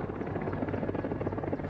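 A Mi-24 Hind gunship helicopter flies with a dense, continuous rotor throb and turbine roar, loud and steady throughout, with no voices.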